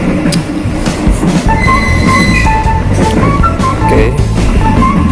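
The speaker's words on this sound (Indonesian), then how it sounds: "berikutnya kereta melaju dengan kecepatan penuh menuju ke stasiun berikutnya" A passenger train rumbles steadily along the rails at full speed, loud and close, with metallic wheel squeals and clattering over the track joints, on the Gumarang line from Surabaya to Jakarta.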